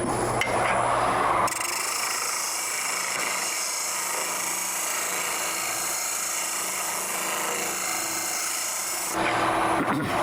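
Scraper tool cutting wood on a spinning lathe, a steady close rasping hiss with a constant motor hum beneath, starting and stopping abruptly.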